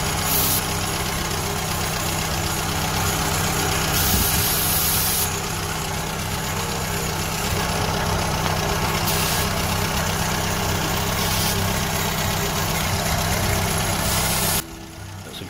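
A 1977 Vauxhall Cavalier MK1 engine fitted with a Weber 32/36 DGV carburettor idles steadily and close by with an even, unchanging hum, then drops away abruptly near the end.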